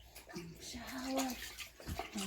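Shower water runs softly and steadily while a baby is bathed, with a voice and a child's sounds heard over the quiet splashing.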